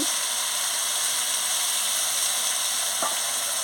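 Ginger paste frying in a pan: a loud, continuous close sizzle and hiss that holds steady throughout, with one faint stirring knock near the end.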